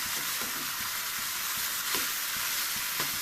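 Banana stem curry with lentils sizzles and fries steadily in a pan, a continuous close crackle with occasional soft stirring scrapes, no voices.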